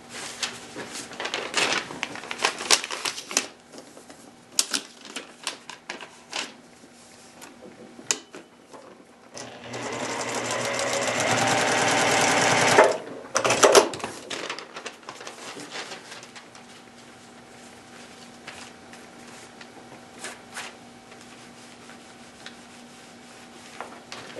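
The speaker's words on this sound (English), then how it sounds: "what I'm going to do is I'm going to restitch it" A sewing machine restitches a paper-pieced pineapple mug rug, a continuous mechanical whirring run of a few seconds in the middle, framed by softer handling clicks and rustles of fabric.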